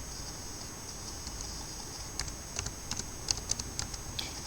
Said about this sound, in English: I will type here pip install speech